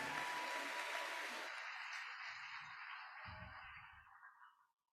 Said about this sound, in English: a big round of applause for all the hard work done here for the Games